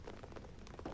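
Steady patter of rain falling in the video game GAMMA, a soft continuous hiss close by with no talk over it.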